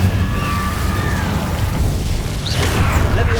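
Incendio fire spell cast in Hogwarts Legacy, a dense roaring burst of magical flame with crackling and whooshing layered over loud game music and effects, sustained and heavy throughout with no voices.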